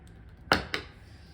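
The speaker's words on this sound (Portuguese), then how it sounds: "Então, vamos cortar aqui uma parte do fio." Two crisp snips of scissors cutting crochet yarn, likely maha cord for a crochet bag, the second cut quieter than the first, close by and alone against a quiet room.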